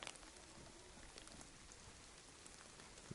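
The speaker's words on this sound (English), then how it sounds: "The rain definitely puts a damper on your day, without a doubt." Steady rain falling in the survival video game DayZ, a soft continuous hiss of drops with a few brief louder taps near the end and no talk.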